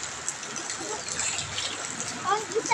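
Strong floodwater current rushing at night in Bugallon, Pangasinan, a steady loud watery roar with splashes, with people talking over it.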